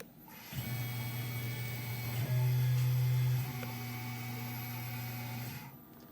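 A CNC mill runs a quick cycle with tool 1, a steady mechanical whine and hum with a pitch step partway through, loud and close, starting and stopping cleanly with no talking.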